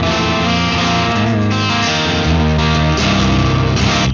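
Electric guitar played through a Randall amplifier's distortion channel with the gain turned all the way up, loud and saturated, with sustained chords and shifting notes ringing continuously.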